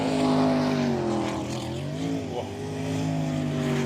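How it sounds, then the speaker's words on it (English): A V8 Superboat racing engine roars loud and close during a timed championship run, its pitch dipping then climbing as the revs pick up. "Hear the revs pick up there now."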